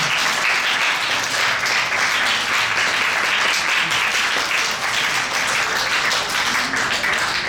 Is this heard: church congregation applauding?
yes